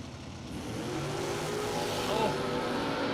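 A 1968 Camaro drag car revs and launches from the line at a drag strip, its engine a loud, sustained roar that builds as it pulls away, with a brief tire chirp.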